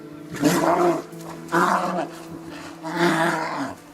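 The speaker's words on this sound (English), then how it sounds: "It began with one bear warning the other with a horrifying snarl" A large male bear, caught on a trail camera during a confrontation with another male, gives three deep snarling growls in close succession, loud and near, each a rough burst of about half a second.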